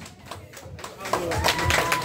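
An audience applauds to welcome a guest performer on stage, with scattered claps that thicken into a steady, fairly close round of applause.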